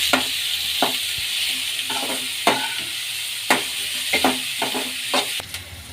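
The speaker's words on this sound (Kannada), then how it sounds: "ಈಗ ಈರುಳ್ಳಿ ಹಾಕೊಳ್ಳೋಣ ಈರುಳ್ಳಿ ಮಿಕ್ಸ್ ಮಾಡ್ಕೊಳ್ಳೋಣ" Onions fry in oil in a pan for macaroni pasta, a close sizzle broken by a series of sharp, irregular clacks as a spoon stirs and scrapes against the pan, with no one speaking.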